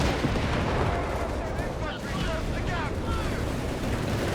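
Air strike explosions from the British RAF in the strategy game Company of Heroes 3, dense continuous booming and crackling battle noise under a busy mix, with faint voices in the background.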